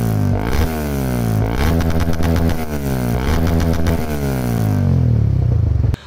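A single-cylinder Suzuki Gixxer SF 250 motorcycle with a loud racing exhaust revs up and down repeatedly, its rough, throaty note rising in several close, sustained bursts.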